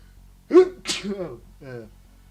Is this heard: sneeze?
yes